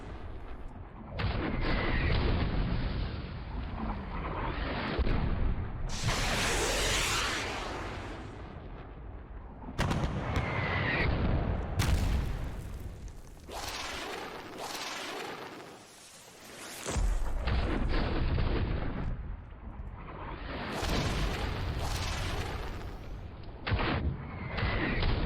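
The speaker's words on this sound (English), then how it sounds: "we have the LCTs firing their payload at this" Landing craft fire artillery in the war game Panzer Campaigns: Japan '45, a run of loud, booming gunfire blasts with rumbling reports and sharp bursts, some overlapping, separated by brief quieter gaps.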